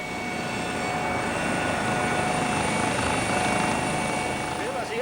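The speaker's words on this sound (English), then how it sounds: "the police helicopter is preparing to leave with paramedic John Kerr and the injured woman on board." A police air ambulance helicopter idles loudly and steadily at a road accident scene as it prepares to lift off, its rotor and turbine roar filling the whole stretch close by, with no talk over it.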